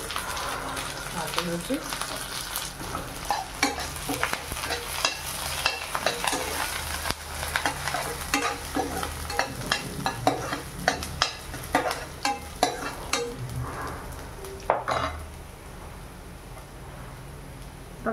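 Coriander and curry leaves crackle and sizzle in hot tempering oil with onion while rava upma is cooked, a steady frying hiss with frequent spoon scrapes and stirs beneath someone talking.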